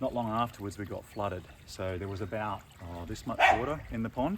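A dog barks briefly in the background while someone talks steadily about a backyard pond, its bark mostly buried under his speech.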